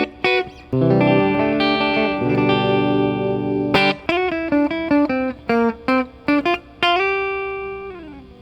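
A dry electric guitar through an amp, BOSS DD-3 delay pedal bypassed, plays a sustained chord, then a run of short picked notes and stabs with clear gaps and no echo.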